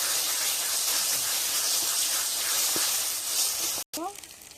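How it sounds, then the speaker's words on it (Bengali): Green chilli paste sizzles and hisses steadily as it is stirred into cooking chicken masala with ginger and garlic, a close, constant frying noise that cuts out abruptly near the end before a brief return. "এবারে দিয়ে দেবো বাটা আছে কাঁচা লঙ্কা নেড়ে নেবো"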